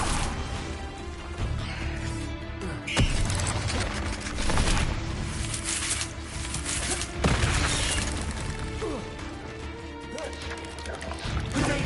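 Confringo blasting spell in Hogwarts Legacy sets off several booming crashes and explosive bursts over dense, continuous combat noise, loud and close.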